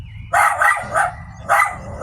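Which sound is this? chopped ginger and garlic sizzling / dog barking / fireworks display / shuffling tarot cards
dog barking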